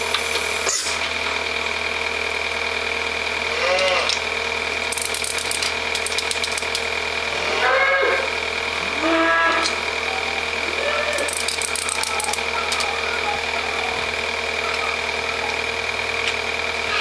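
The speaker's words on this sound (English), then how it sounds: "The hoof trimming process starts." A steady mechanical hum and rhythmic ratcheting clanks from an automatic cow hoof trimming machine on a modern dairy farm, with intermittent metallic clicks and squeaks over a constant drone.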